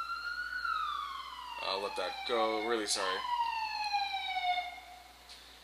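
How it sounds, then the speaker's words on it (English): A wailing siren in New York glides up and down steadily throughout, with someone talking briefly over it in the middle. "sorry for the sirens"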